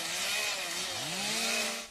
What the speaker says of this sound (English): from clearing brush with chainsaws to mop-ups after back burning